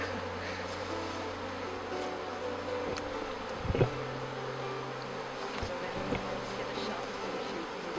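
A steady, dense buzzing of many bees fills the whole stretch, continuous and close, with a brief thump partway through.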